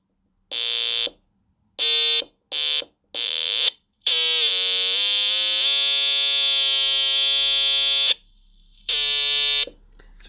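A breadboard electronics kit oscillator emits harsh, high buzzing tones in short bursts, then a long sustained whine with wavering pitch, followed by further bursts; loud, close electronic noise with brief gaps between.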